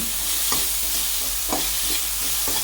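Spice powders of black pepper, chilli, turmeric and masala are stirred in a frying pan over a steady sizzle, with soft rhythmic scraping strokes about once a second.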